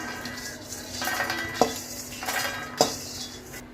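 Dry fruits fry until crisp in a pan for burfi, a spatula stirring them with scraping, soft sizzling and two sharp metallic clinks against the pan, close and fairly loud.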